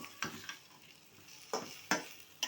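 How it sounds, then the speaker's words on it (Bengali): Bottle gourd with spices stir-fried in a pan, a faint low sizzle broken by five or six crisp scraping strokes of a spatula against the metal, close by and irregularly spaced. "এখন লাউটা আমি ভালো করে কষিয়ে নিব"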